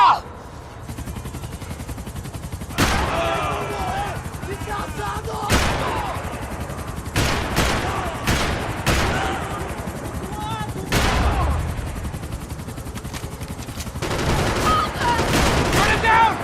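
Rapid bursts of gunfire in the video game Max Payne 3, with sharp shots and fusillades over a constant rumbling backdrop, loud and continuous, with shouting voices mixed in.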